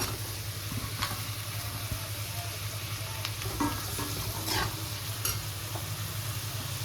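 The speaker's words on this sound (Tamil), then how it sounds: "வெங்காயம் வதங்கிடுச்சு. இப்போ தக்காளி சேர்த்துக்குவோம்." Onion and tomato frying in a pan for a banana-flower dumpling curry, a soft continuous sizzle with occasional stirring scrapes and light clinks, heard close but quiet and without speech.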